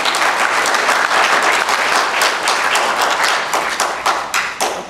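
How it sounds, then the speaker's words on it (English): An audience claps at a media bias training session, a dense sustained applause with individual claps growing more distinct toward the end; no one speaks. "can we give a round of applause to them"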